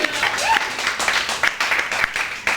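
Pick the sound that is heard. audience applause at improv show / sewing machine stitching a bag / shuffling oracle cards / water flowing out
audience applause at improv show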